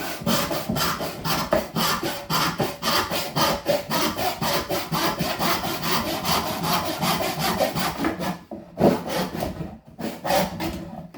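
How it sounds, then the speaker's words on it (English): A back saw cutting wood with steady, rhythmic rasping strokes, close and loud, roughly two strokes per second, with a few brief pauses near the end. "So I'm using a back saw for this."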